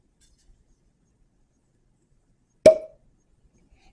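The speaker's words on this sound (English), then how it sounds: "Good bottle pop." A bottle of Booker's bourbon being uncorked, a single clean, resonant pop standing alone in near silence, with a brief ringing tail.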